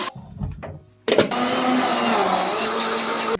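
Electric kitchen mixer grinding rice batter finely, a loud continuous whirring drone that starts after a brief pause and runs steadily, with short bursts of clatter at the jar before it settles.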